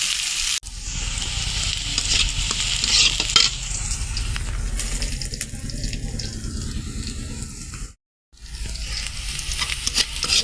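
Onion with green chilli frying in oil until reddish, an even close sizzle with scraping stirs, easing partway through before a brief silent gap and a resumed hiss.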